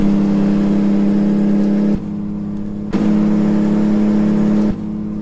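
Virtual heavy truck's Jake engine brake in American Truck Simulator on a downhill Quebec road, a loud steady low drone that cuts out and returns twice, up close and alone.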